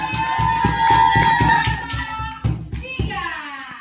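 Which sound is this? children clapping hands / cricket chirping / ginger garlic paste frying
children clapping hands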